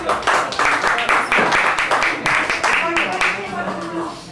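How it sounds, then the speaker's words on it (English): An audience applauds in memory of Tim Russert after a request for a hymn at a jazz performance: steady, fairly close clapping from a crowd keeps a brisk, even rhythm throughout. "they're applauding Tim Russert"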